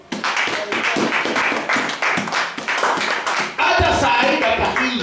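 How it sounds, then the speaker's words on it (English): A church congregation claps during a sermon in a Nairobi-area service, loud rhythmic clapping in regular beats with voices mixed in, growing denser and fuller toward the end. "You cannot clap for my God."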